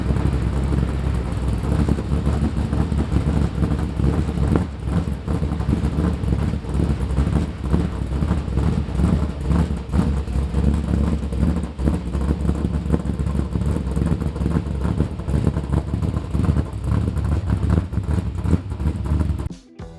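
A 1972 Chevrolet Camaro engine rumbling steadily and loudly as the car pulls away, with continuous low drone and wind buffeting on the microphone throughout, then cutting off abruptly at the end.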